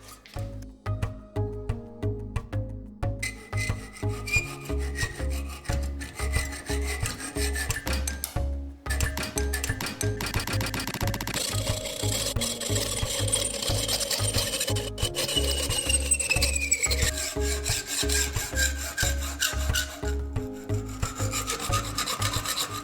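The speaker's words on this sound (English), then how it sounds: "the screws I bought were a tiny bit too long, so I had to cut them" Screws that are slightly too long are cut down by hand while building an RF cavity filter, producing a long run of rhythmic, rasping back-and-forth strokes, close and fairly loud, with a few brief pauses.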